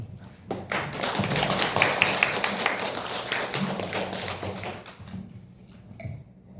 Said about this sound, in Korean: 우리가 환영의 박수로 이렇게 쳐주시면 감사하겠습니다